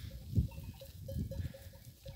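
Sheep in a flock out on a scenic hilltop above Aygır Waterfall, with soft bleats and low animal sounds close by, rising and falling over a steady outdoor background.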